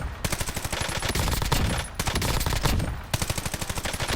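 An automatic rifle with a 60-round magazine in the video game Call of Duty Warzone fires long, rapid bursts, loud and close, with short pauses between the strings of shots.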